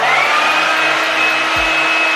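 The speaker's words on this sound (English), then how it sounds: "take your blow dryer and just blow on it" A hair blow dryer blowing on a wrapped lace frontal wig gives a loud, steady, whining roar close up that runs without a break, with a faint low bump near the end.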